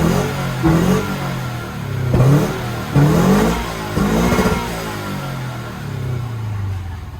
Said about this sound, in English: the exhaust has just been done, and it sounds really good. It's not overly loud, but it has the boxer rumble